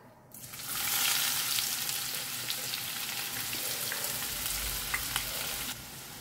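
Chopped onions hiss and sizzle steadily in a hot pan after cumin and bay leaves go in, a loud, even frying sound close by with a few faint crackles and no talk.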